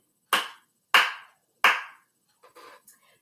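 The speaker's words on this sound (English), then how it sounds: "Clap your hands three times." Hands clap three times in a steady rhythm during a children's movement lesson, each clap sharp, close and loud, followed by a few faint softer taps.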